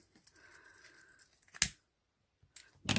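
Scissors snip through the ribbon tail of a handmade hair bow. Two sharp, close cuts come about a second apart, with quiet rustling before them.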